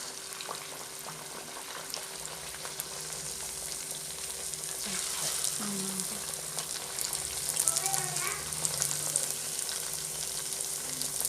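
Thattai, a rice flake and gram flour snack, frying in hot oil, with a soft continuous bubbling sizzle, a brief scraping or clatter midway, and faint sounds in the background.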